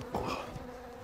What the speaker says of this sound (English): Bees. I hate bees.